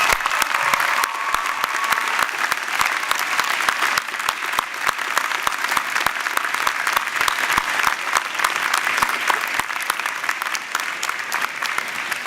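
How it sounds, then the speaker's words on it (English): A convocation audience at a 2018 Faculty of Health and Social Development graduation applauds families and friends with sustained, dense clapping that stays steady and loud throughout, no voices rising above it. "So let's give them a huge round of applause."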